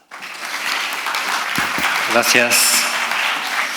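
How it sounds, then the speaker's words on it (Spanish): A conference audience breaks into sustained applause to welcome a speaker, a steady, full clapping that starts abruptly and continues while someone briefly speaks over it. "Lo recibimos con un fuerte aplauso."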